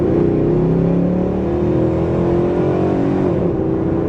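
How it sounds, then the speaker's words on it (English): Loud, close revving of a 2006 Dodge Ram's 5.7-litre Hemi V8, a deep throaty roar with rising and falling pitch that holds steady throughout. "Got my Hemi revving the road"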